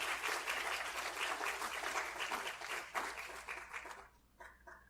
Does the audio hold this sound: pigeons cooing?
no